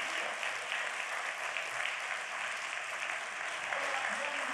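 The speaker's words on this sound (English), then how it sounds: "Come on now, you can applaud that." An audience applauds at a city event, a dense, even patter of clapping that holds steady throughout.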